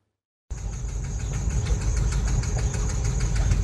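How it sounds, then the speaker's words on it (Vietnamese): Machine engine running at night on the bank of the Dong Nai River at an illegal sand mining site, starting abruptly after a moment of silence and then a loud, steady rumbling drone with a rapid rhythmic knock. "1 giờ sáng, tiếng máy nổ phát ra bên bờ sông Đồng Nai."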